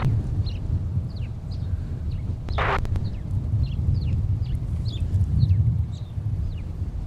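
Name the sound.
birds chirping outdoors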